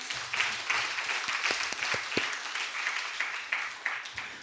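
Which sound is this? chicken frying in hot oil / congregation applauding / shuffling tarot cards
congregation applauding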